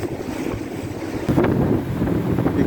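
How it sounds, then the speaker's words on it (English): A boat motor runs on the Ottawa River, a continuous low engine drone mixed with strong wind buffeting and water noise, loud and close throughout, with no voices. "You can hear the motor."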